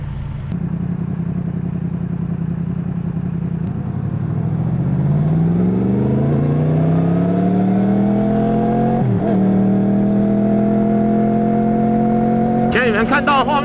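A Yamaha MT-10 motorcycle engine, heard up close while riding, climbs in pitch as it revs through the gears, then holds a loud, steady drone with a brief dip midway.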